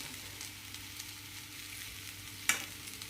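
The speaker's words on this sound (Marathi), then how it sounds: "बटाटा मऊ होतो म्हणून थोडासा एक पाच मिनटं हो, कमीत कमी तेलात परतवून" Potatoes sautéing in a little oil, a faint steady sizzle under the whole stretch, broken by one sharp clink of a utensil near the end.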